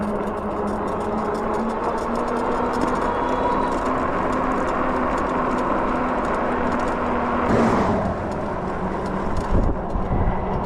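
Steady whirring motor and rushing wind noise from a Nakto Folding Ox e-bike being ridden outdoors, continuous and fairly loud throughout.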